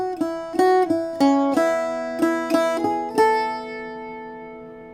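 Irish bouzouki playing the new fourth line of a tune's A section, a string of plucked, ringing notes in a lilting triplet-like rhythm, close and clear, with the last note left to sustain and fade.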